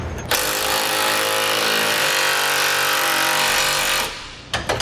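A power tool snugs down Curt trailer hitch receiver hardware on a 2008 Ford F-150, giving one loud, continuous harsh whirring burst of about four seconds that cuts off abruptly, followed by a couple of faint clanks.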